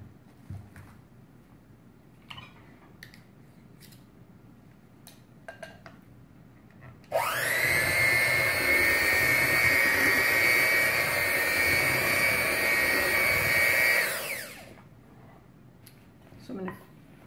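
An electric mixer runs in a bowl of pink filling, a loud steady whirring whine lasting about seven seconds, with quieter kitchen clatter and handling sounds before and after.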